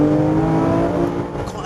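A Porsche 997 GT3 RS engine drones loudly from inside the cabin with a steady low tonal hum and road rumble while driving, briefly and without a break.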